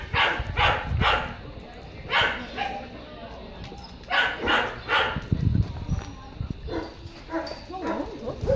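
A dog barks in short bursts of two or three, fairly close, with people talking nearby between and over the barks.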